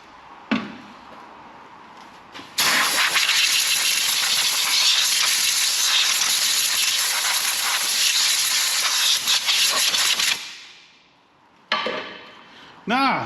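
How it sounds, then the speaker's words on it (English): Brake cleaner sprayed in a long, loud continuous hiss onto the rear brakes of a Hyundai Tucson, with a short burst first, then about eight seconds of steady spray and two more brief spurts near the end. "let's brake clean the hell out of this"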